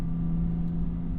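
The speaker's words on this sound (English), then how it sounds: "the low RPMs aren't super amazing sounding, but they're not like really awful from inside the car" A BMW M2 Competition with an S55 engine and an equal-length valved Valvetronic exhaust drones steadily at low RPM, heard from inside the car as a smooth, constant low hum.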